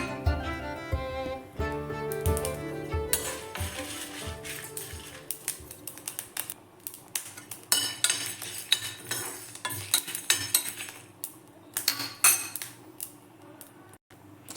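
Spices for sambar powder stirred in a pan over the stove, a string of light metallic scrapes and clinks of a spoon against the pan, close and fairly quiet with uneven gaps.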